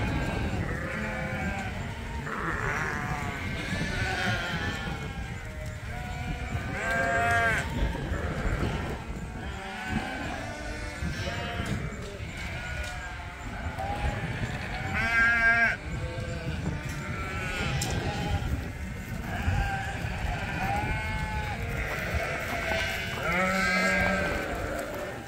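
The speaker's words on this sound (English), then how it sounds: "We decided to wean the ram lambs, except for Little Mister and Spartacus" Young lambs on a sheep farm bleat repeatedly and loudly while being given their vaccination shots. The calls overlap amid shuffling and handling noise.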